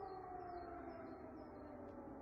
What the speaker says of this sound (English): Sirens has become the new soundtrack of my life.